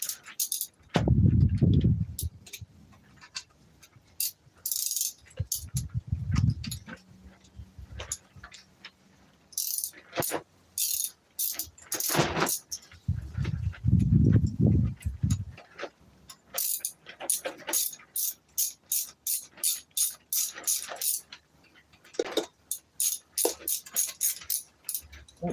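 Something is bolted down by hand: bursts of rapid ratchet clicking and metallic rattling come close and loud, broken by pauses and a few low thumps.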